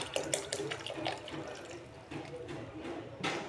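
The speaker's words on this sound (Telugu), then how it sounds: "కూల్ వాటర్ అయితే పోసేసుకోవాలి" Cool water poured from a tap or jug onto freshly boiled noodles in a pot for street-style double egg noodles, a steady splashing rush that briefly eases before surging again near the end.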